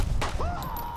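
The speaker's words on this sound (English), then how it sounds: "I'm gonna blow through all the ammo in this gun. This gun is so fun to shoot." A short gunshot from a gun in Fallout: New Vegas, one sharp crack at the start followed by a brief ringing tail, loud and up close.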